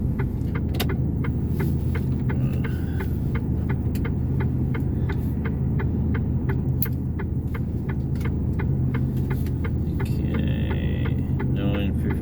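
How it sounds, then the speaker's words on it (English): Cars passing from the opposite direction on a road near Mt Larcom, heard from inside a running vehicle as a steady low road rumble and engine hum, with repeated faint clicks and brief higher whooshes through the twelve seconds. "Some cars coming from the opposite direction."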